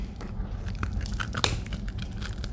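Crunchy Mega Gardetto rye chips bitten close to the mic, several crisp cracks and crunches over about two seconds, one sharp snap standing out, with no talking.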